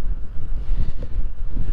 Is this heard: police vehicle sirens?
no